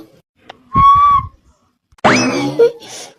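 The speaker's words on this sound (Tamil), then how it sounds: "விசில்ல கூப்பிடுறீங்க?" A person whistles to call someone: a clear, loud whistle about a second long with a steady pitch, then a second whistle after a short pause that glides in pitch, both standing alone.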